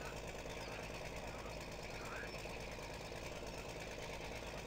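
A tractor engine warms up at a steady idle in the Farming Simulator 17 video game, a constant, even mechanical chug that stays at one level throughout.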